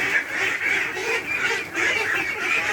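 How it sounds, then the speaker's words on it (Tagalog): Domestic ducks quacking in a steady, continuous chorus of overlapping calls, fairly close and loud, with no talking over them. "Ganyan po yung mga itik, no?"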